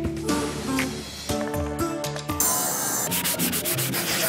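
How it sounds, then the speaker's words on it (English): Wood is sanded by hand at a guitar-making school, giving a loud, close, continuous rasping rub with shifting strokes and no talking. "You can sand that for me."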